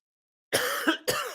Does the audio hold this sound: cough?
yes